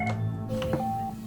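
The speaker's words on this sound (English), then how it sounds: "the scramble phone is ringing." A scramble phone rings at RAF Topcliffe air ambulance base, giving a short electronic tone burst, fairly faint, with a low background hum and no talk.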